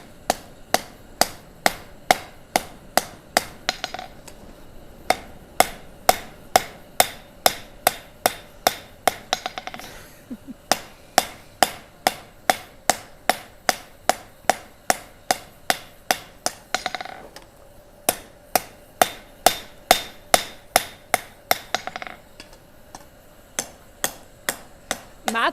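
At a gas forge, a hammer strikes metal on an anvil in steady rhythmic bursts of ringing blows, loud and close, with short pauses between runs over about twenty-five seconds and no speech.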